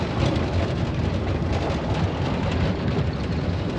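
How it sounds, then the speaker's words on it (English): Steady rain falls in Qatar at the start of the winter rainy season, a dense, even hiss of drops holding a constant level throughout with no voices. "it's raining in Qatar"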